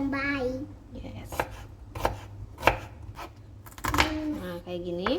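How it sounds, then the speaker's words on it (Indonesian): Knife strikes on a cutting board while slicing onions, a handful of separate chops spaced unevenly, close, mixed with someone speaking and background voices. "Bawang bombaynya juga sama, saya iris-iris juga teman-teman"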